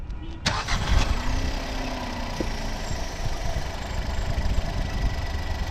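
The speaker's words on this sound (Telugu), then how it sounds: "ఇంజన్ అయితే ఆన్లో ఉంది, మీరు సౌండ్ వింటున్నారు." A Skoda Rapid's engine catches and settles into a steady, rumbling idle that continues evenly throughout, with a brief click near the start.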